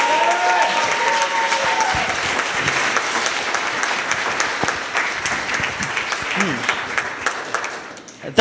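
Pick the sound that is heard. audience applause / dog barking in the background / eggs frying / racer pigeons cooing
audience applause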